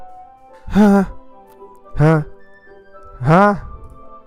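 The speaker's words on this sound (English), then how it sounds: "It sounds like breathing. A sharp inhale like someone is sucking the air out of their teeth." Three sharp, drawn-in breaths in Doki Doki Literature Club, each a short voiced inhale through teeth, spaced about a second apart and heard close and clear against quiet.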